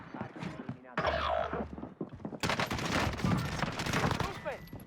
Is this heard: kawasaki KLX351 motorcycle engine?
no